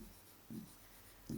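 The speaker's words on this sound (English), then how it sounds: "I just write those words down." Pen writing words down on paper in a quiet room, with two brief scratchy strokes that swell louder for a moment, separated by soft near-silence.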